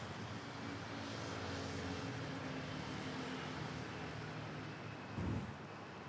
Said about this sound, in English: And yeah, the touchdown is Philippine Airlines